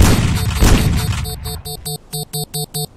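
Gunfire in the stealth video game Sneak Thief: a dense noisy burst of blasts first, then five evenly spaced sharp synthetic shots ringing out loud and close, with no talking.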